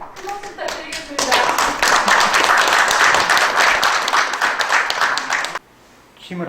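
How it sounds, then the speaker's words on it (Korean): A ceremony audience applauds at a university merger agreement signing, starting with scattered claps under voices before swelling into loud, dense clapping that holds for about four seconds and then cuts off abruptly. "큰 박수 부탁드리겠습니다"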